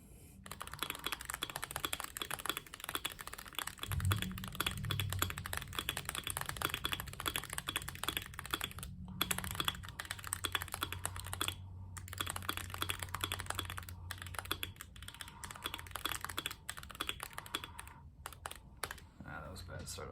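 Rapid typing on a Cerakeys ceramic-keycap keyboard produces dense, continuous clacking with brief pauses, close and crisp, and a low voice murmurs beneath it partway through.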